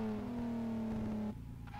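In a drifting video game, a car engine holds a loud buzzy tone at steady high revs, then drops abruptly as the throttle lifts, brief and close with no speech.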